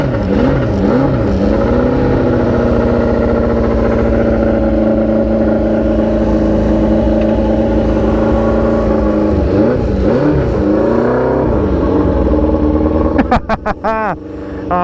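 A 1974 Honda CB400F four-cylinder motorcycle idles steadily up close, its engine note wavering slightly in pitch, with a few sharp mechanical clicks and rattles near the end.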